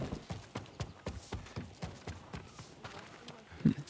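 Hooves of a horse clip-clop at a steady walking rhythm in Ghost of Tsushima, soft and fairly close, with one brief louder thump near the end.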